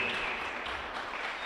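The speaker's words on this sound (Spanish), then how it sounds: "Denle un aplauso al Señor, hermano" A church congregation applauds during a sermon, a steady broadband wash of clapping that holds evenly for its short length with no voices over it.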